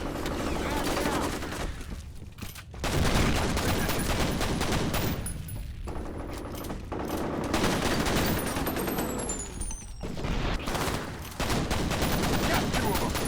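Rapid pistol gunfire in F.E.A.R. multiplayer on the Refinery map, with dense bursts of shots nearly throughout, broken by brief lulls, alongside game effects and occasional voice callouts.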